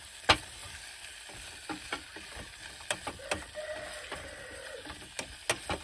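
Teriyaki sausages sizzle in a small pan over a hexamine solid-fuel stove, a soft steady fry punctuated by irregular clicks and scrapes as they are stirred.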